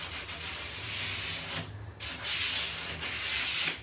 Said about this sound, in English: For the sake of just running your sandpaper over the top.